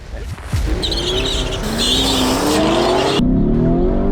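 Lamborghini Urus SUVs accelerate hard on a road, a loud, close engine roar rising through gear shifts with a brief tyre chirp early on, while people talk over it.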